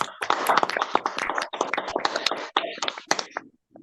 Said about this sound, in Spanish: le vamos a brindar un aplauso al compañero